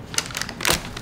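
A knife cuts through a Dubai-style filled chocolate bar, giving a short run of close, crisp crackling crunches that builds to a louder snap near the end.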